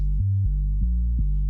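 A deep, sustained synth bass plays alone, holding low notes that shift pitch a few times in a slow, steady pattern.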